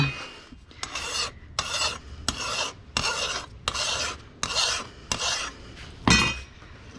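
A lawn mower blade is sharpened by hand with a metal file, about nine loud, close, evenly spaced rasping strokes with brief pauses between them and no talking.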